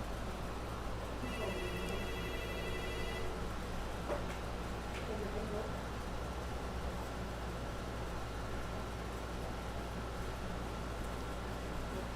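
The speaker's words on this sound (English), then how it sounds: "oh yeah, the phone keeps ringing" A telephone rings briefly during a bingo broadcast, a repeated electronic trill over steady background hum, then fades, leaving only faint room noise.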